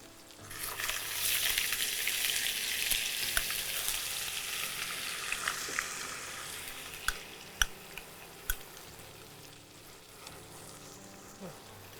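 An onion paste fries with a strong, steady sizzle that gradually quietens, broken by a few sharp pops and crackles.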